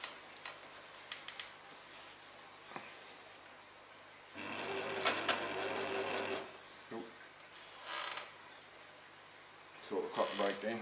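A sewing machine stitches curtains for a Toyota Coaster bus in quiet bursts: faint ticking at first, then a steady whirring run of about two seconds, followed by shorter bursts and clicks.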